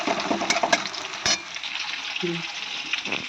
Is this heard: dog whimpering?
no